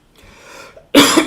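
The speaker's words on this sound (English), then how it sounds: "What a weird cough" A single close, loud cough, preceded by a quiet breathy throat sound, then one sharp harsh burst near the end.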